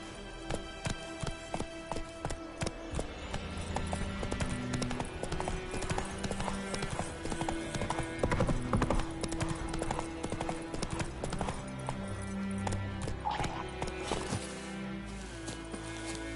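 Horse hooves clip-clop steadily in The Witcher 3, a continuous rhythmic trotting close by, layered over a busy game soundscape with music and ambient noise.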